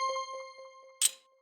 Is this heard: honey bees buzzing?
no